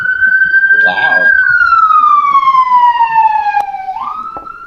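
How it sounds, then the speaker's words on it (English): A police siren outside an open window wails loudly in one long falling sweep, then rises briefly. A voice is heard faintly early on. "That siren is chasing Connor."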